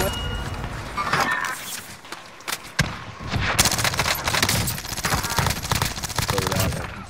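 A PPSh submachine gun fires rapid automatic bursts in a Call of Duty match on Rebirth Island, loud rattling volleys with brief gaps, mixed with other game gunfire and footsteps while players talk over it.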